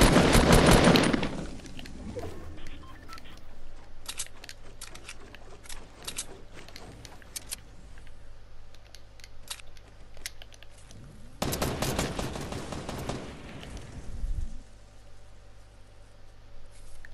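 Fortnite gunfire goes off in two loud, sharp bursts, one at the start and another partway through, with scattered faint shots and clicks between them over a low steady hum.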